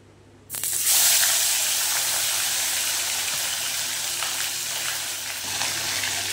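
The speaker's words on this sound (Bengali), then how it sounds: "এবার এক এক করে আমি মাছগুলো ভেজে নেব।" A sudden loud sizzle bursts in as pomfret fish hits hot oil, then settles into a steady, bright crackling fry close by.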